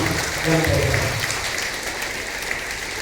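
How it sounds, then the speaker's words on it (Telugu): A church congregation clapping loudly in praise, a thick, continuous wash of applause with a brief voice near the start. "ఆశీర్వాదం గట్టిగా చప్పట్లు పట్టి ప్రభువుని"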